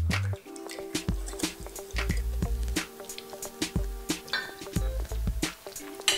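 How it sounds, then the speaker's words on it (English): Chili sauce and maple syrup stirred in a pan for vegan fried rice, giving soft wet squelches and drips with a few light clinks, fairly close, over a steady background hum. "So then I'm just going to give this a little stir."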